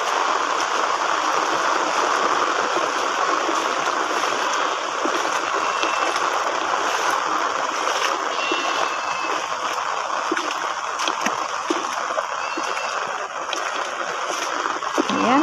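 Floodwater rushing steadily around a flooded goat pen in the rain, a continuous loud churning and splashing flow with rain hiss layered on top, unbroken for the whole stretch.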